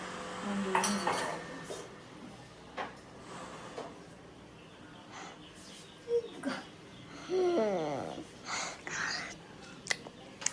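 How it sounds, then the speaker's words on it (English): A knife chopping tomatoes on a board in a home kitchen: sparse taps and clinks of utensils and dishes, close and quiet, with faint murmured voices. "Now what I'm doing is I'm chopping this tomatoes."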